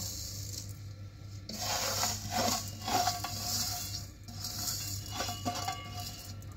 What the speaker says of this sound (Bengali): এবার এতে আমি চিনিটা ঢেলে দেব